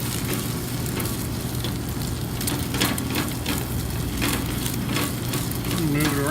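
A Monte Cristo sandwich frying in a hot pan sends up a dense, continuous sizzle that holds steady and close for several seconds, with a faint tone surfacing near the end.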